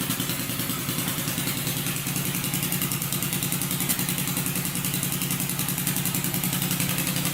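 A turbocharged Honda 400EX ATV engine runs steadily at a fast idle, a loud continuous rattling drone with no breaks and no voices.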